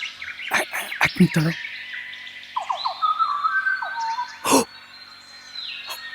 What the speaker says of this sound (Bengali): তুমি একটা পাখির আওয়াজ শুনতে পাচ্ছ?